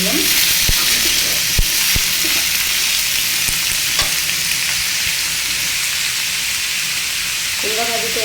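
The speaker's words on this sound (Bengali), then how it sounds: "তেলের ভিতরে জিরে ফোড়ন দিয়ে কুমড়া ভাজি বসিয়ে দিলাম।" Pumpkin frying in oil with a cumin tempering, a steady close sizzle with scattered clicks of a spatula stirring, plus a brief faint voice-like tone near the end.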